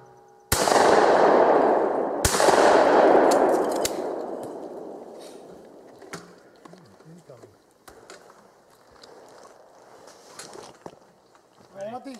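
Two loud shotgun blasts at an outdoor sporting clays shoot, about two seconds apart, each ringing out with a decaying echo. Quieter shuffling and indistinct voices follow.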